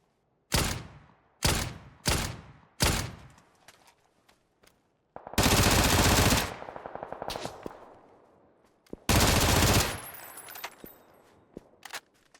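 A FAMAS rifle fires in PUBG, with several sharp single shots and then two long, loud automatic bursts, the shots ringing out with echoing tails and no talk over them.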